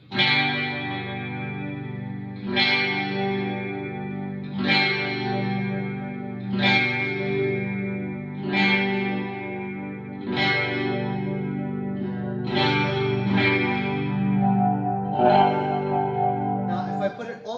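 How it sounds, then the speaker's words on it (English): An amplified hollow-body electric guitar strums chords repeatedly at a steady pace, its tone gradually shifting thinner and more processed as a piezo pickup is blended in. "listen how the tone starts to change as I blend in the piezo"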